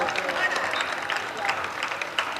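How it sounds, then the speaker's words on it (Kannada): Children clap at a prize ceremony for a Dakshina Kannada district-level primary and high school boys' and girls' sports meet, a brief scattered burst of applause mixed with crowd noise and nearby voices. "ಚಪ್ಪಾಳೆ ತಟ್ಟಿ ಮಕ್ಕಳೇ"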